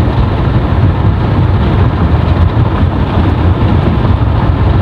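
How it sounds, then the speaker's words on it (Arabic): Wind buffets loudly and continuously against a vehicle driving the desert road between Zelfana and Ghardaia in Algeria, a dense rushing roar with low rumble and no pauses. "كاين شويه الريح"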